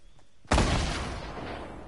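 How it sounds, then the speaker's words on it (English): A loud explosion in a video game bursts in suddenly with a deep booming hit, then rumbles and decays over more than a second of fading debris noise. "I heard that explosion"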